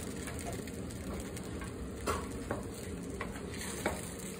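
Food simmering in a pan on the stove, a soft continuous bubbling sizzle with a few faint clicks and taps, quiet and close throughout.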